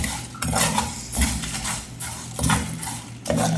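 Biryani spices and leaves dry-roasting in a pan, with repeated metallic scrapes and clinks of a spoon stirring against the pan in uneven bursts, close and fairly loud, without talk.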